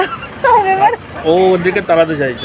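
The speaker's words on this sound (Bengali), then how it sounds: "এদিকে কুকুরগুলো ঘেউ ঘেউ" Dogs at the Dakshineswar temple give short, high yips and whimpering cries, several close calls in quick succession, with a person talking over them.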